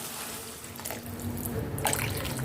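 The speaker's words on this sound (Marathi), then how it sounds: "लगेच आपल्याला पाणी घालायचं आहे" Water runs and splashes briefly into a vessel, swelling louder toward the end, with no talking.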